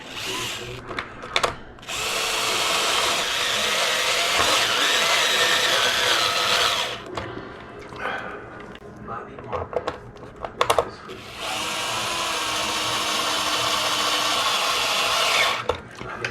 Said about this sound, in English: Just gonna button up our 16 bolts for our chassis brace.